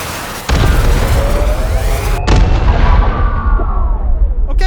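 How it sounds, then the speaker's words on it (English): Missiles firing and exploding in the VR shooter game H3VR: a sharp blast opens a loud, sustained roar, a second heavy boom follows midway, then descending whistling tones trail off, with no talking. "One of our new friends is firing missiles at us."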